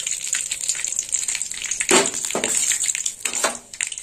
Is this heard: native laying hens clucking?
no